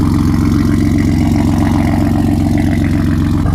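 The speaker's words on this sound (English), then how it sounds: "I'm gonna quickly open the valves and then you guys can hear the difference." A BMW G80 M3 Competition idles with its exhaust valves open, loud and steady with a deep, throaty exhaust rumble throughout, close by, with no talking.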